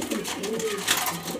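A low rolling coo from colorful grizzle pigeons in a loft rises and falls across the moment, close and moderately loud, with faint bird rustle and chatter around it.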